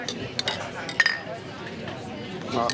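Glasses clink together in a toast at a small gathering, a few bright taps over room chatter and nearby voices talking.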